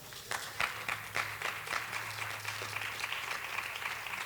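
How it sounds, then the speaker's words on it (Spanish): Church congregation applauding at a Spanish-language service, a moderate, steady patter of many hands clapping for about four seconds, with a faint sustained tone underneath. "Denle un aplauso al Señor."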